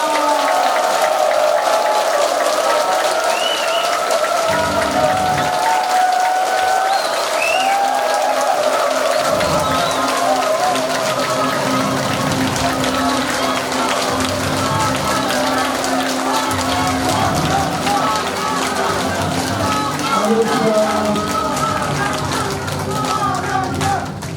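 An audience claps warmly to welcome Heo Kyung-young at a Saturday lecture, a dense, steady crackle of many hands that runs the whole time under background music.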